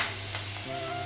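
Green and dried chillies sizzling in hot oil as a tempering for masoor dal, a steady bright hiss with a faint tonal whine, no talking.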